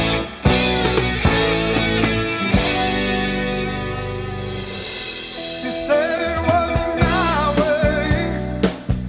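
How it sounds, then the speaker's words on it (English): Soul-style music sample, the song Counting on You by Blackjack, with full band instrumentation and sustained harmonic tones, steady and fairly loud throughout, no speech. "I found this sample called Counting on You by Blackjack"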